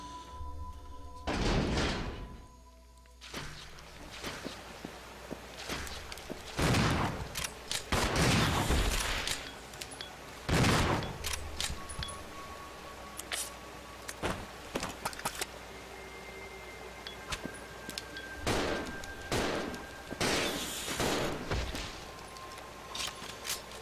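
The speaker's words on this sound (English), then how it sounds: "So I had to use more shotgun shells that I would have liked" Shotgun blasts against plague crawlers in Resident Evil 0, a handful of heavy, spaced shots with quieter clanking and movement sounds between them, no talking.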